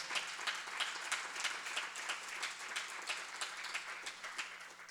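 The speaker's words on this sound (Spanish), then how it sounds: "Si usted va a aplaudir, apláudele de verdad" Steady applause from a church congregation during a sermon, a dense continuous wash of many hands clapping at moderate distance, fairly quiet and even throughout with no talk over it.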